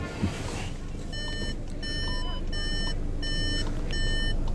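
Regular high-pitched electronic beeps repeat in evenly spaced bursts over a low idling engine rumble, the reverse warning of a Volkswagen T-Roc.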